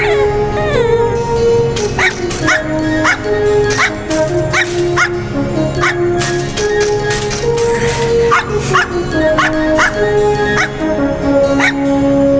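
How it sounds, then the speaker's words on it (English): A puppy in the Wild Arms 4 video game yips, barks and whimpers in short repeated bursts over a continuous musical score, fairly loud and close. "Is that the puppy from the river?"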